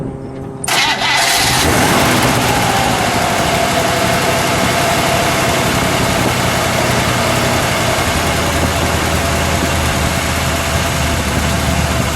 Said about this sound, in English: we're going to start with the engine start up front here